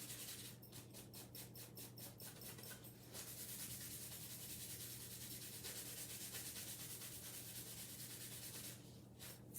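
A wooden house-shaped block is buffed by hand, giving a faint, steady dry rubbing and scratching with quick rhythmic strokes at the start and end, alone with no talk.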